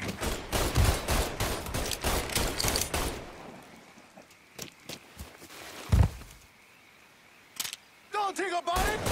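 Rapid bursts of gunfire in the open-world crime game Mafia 3, dense and loud at first, then thinning to scattered single shots over a quieter stretch, with shouted voices mixed in.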